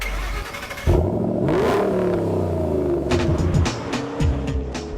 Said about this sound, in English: I love about this car is that freer flowing exhaust that we mentioned